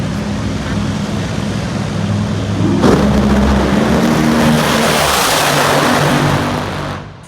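NHRA drag racing cars at the York Nationals launching down the strip, a loud sustained engine roar that surges and swells midway, then holds before cutting off abruptly at the end.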